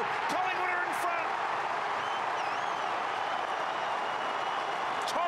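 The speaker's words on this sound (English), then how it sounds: "listen to the crowd" A large crowd at the MCG roars after a Collingwood goal in the 2012 AFL semi final against West Coast, a steady, loud wall of cheering with faint voices in it.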